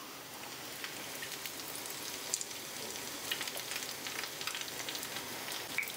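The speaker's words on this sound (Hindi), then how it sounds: "मीडियम फ्लेम में पहले हम एक तरफ 2 मिनट के लिए फ्राई हो जाने" Snacks frying in hot oil over a medium gas flame, a faint, steady sizzle with scattered small pops and crackles, quiet and close with no talk.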